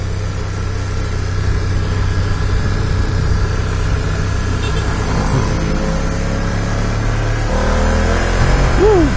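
BMW F 900 R two-cylinder motorcycle engine running steadily close by, holding a low drone with the revs climbing near the end; no talking.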